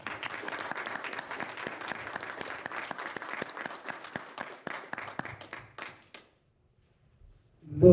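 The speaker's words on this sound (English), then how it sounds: "Everyone clap for Damien." A Toastmasters club audience applauds steadily for several seconds at a speech contest, then the clapping tapers off into silence before a faint sound returns at the very end.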